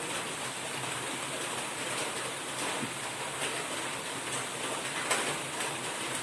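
Steady, dense hiss of heavy rain pouring down continuously, with no voices, filling the whole stretch at an even level.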